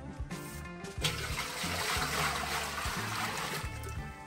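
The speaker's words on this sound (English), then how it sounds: "All right, let's pour this water in there too." Water gushes steadily into a container at a crab-bait setup, a continuous splashing pour with a brief sputter at the start, fairly close and with no talking.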